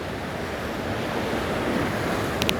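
Sea waves wash onto the beach below the Covesea cliffs near Lossiemouth, Moray, Scotland, a steady surf roar with wind buffeting the microphone and no voices.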